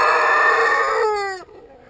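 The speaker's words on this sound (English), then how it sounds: "That chicken is a Jersey Giant." A Jersey Giant rooster crows loudly and close by in a winter chicken run, one long sustained call that bends downward and cuts off near the end, with no talking.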